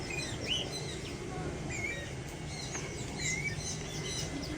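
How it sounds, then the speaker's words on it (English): A cockatiel gives scattered short chirps and tweets over a steady background hiss, fairly faint and intermittent across the span. "It's just like a regular like cockatiel."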